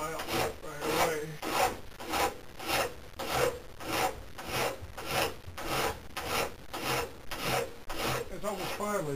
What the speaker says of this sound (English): Get some of that extra material off the bigger file right away.